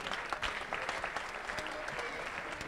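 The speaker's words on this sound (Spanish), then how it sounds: "Bueno, un fuerte aplauso a todos." Spectators give brief, faint applause at a mini sumo robot competition during OSHWDem 2019. The clapping sounds scattered and distant.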